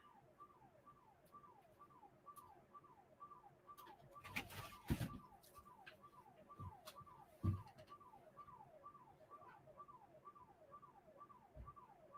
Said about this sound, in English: That's my neighbor's house alarm.